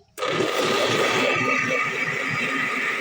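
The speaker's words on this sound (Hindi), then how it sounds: "दही और प्याज को हम जूसर में ही पीस लेंगे।" A mixer grinder jar starts abruptly and whirs loudly for about three seconds as it purees yogurt, onions and water, a steady close motor whine with churning texture, then cuts off.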